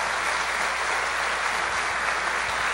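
Convention audience applauding to welcome a standing guest, a dense, even wash of many hands clapping at a steady level throughout.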